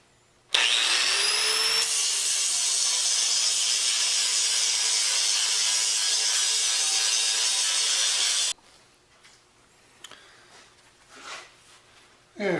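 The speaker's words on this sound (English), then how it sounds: "I'm going to grind it up a bit, clean it up, and then flip it over and do the other side." An angle grinder grinds steel for a backyard firepit, spinning up with a rising whine and then holding a loud, steady, harsh scraping roar for about eight seconds before stopping, followed by quieter clanks and shuffling.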